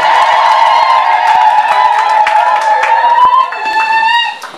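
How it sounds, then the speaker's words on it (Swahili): Women in a church congregation ululating together, a loud sustained high trilling chorus that carries on steadily before fading near the end, with scattered claps and cheers. "na vigelegele kama wanawake wapo"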